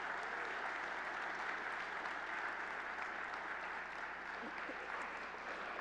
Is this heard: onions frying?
no